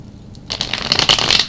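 Oracle cards from an Isis Oracle deck are shuffled by hand, a quiet pause giving way to a steady run of crisp riffling and slapping card sounds, close and alone.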